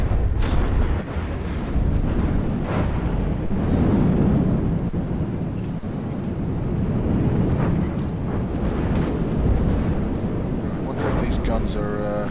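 Direct-input-fed guns fire in a war video game, a loud rumbling barrage of booming shots under steady wind-like noise, with a voice talking over it.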